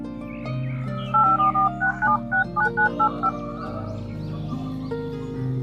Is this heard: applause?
no